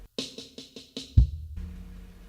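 A paradiddle-diddle rudiment on a drum kit with the bass drum replacing the final left-hand note: five quick close snare strokes, then a heavy kick thump that rings out and fades, with no one talking.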